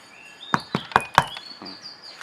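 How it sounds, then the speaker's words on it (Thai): Four sharp knocks in quick succession on the hollow metal roof panel of a Toyota Vios with damping sheets installed, close and distinct, followed by fainter taps and a faint high whine in the background. "เดี๋ยวลองเคาะข้างๆดูครับ"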